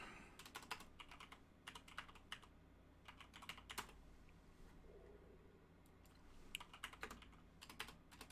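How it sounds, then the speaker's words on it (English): Rapid clusters of computer keyboard keystrokes come in bursts with short pauses, close and fairly quiet over a low steady room hum. "I'm not typing well today for some reason"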